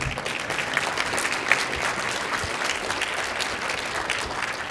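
An audience at a water innovation tech talk applauds between speakers, a steady, moderately loud crowd clapping that continues evenly throughout with no talk over it.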